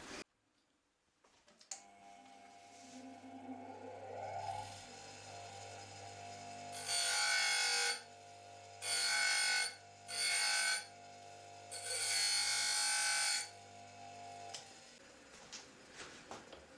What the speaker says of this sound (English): Now I'm just going to nick the high-speed steel blank here on the bench grinder,